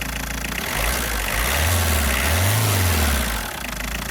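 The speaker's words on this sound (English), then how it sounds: "Maximum clatter, which is one of my favourite things about these old diesel engines." A 2000 Ford Mondeo turbodiesel engine clatters at idle, briefly rising in two rev swells before settling back to its steady, rattling knock; loud and close, no talking.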